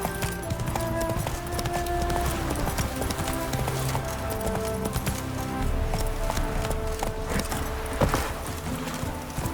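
A horse gallops in The Witcher 3: Wild Hunt, its rhythmic clip-clop of hooves continuous and close over game music, with brief tack and impact sounds.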